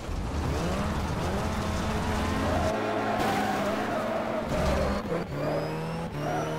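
Engine roar of a rally car in the Rally Factor racing game as it slides out, loud and continuous with tire skid noise and revving that shifts pitch through the slide.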